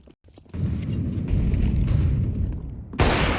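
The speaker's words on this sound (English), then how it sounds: "Nice shot. Yeah, that AWP," An AWP sniper rifle shot in Counter-Strike 2 on the Vertigo map, a sudden loud boom that swells into a sustained roar, followed by a sharp bright crack near the end.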